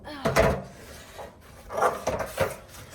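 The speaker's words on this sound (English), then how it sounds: "we are still going to just quickly sand over the top" Sandpaper rubs over the top of a wooden build in a few short, close scraping strokes with brief pauses between them.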